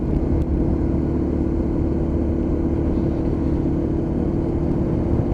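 A Lexmoto LXR motorcycle engine drones steadily while riding at around 30 mph, a constant low hum with wind noise, no speech.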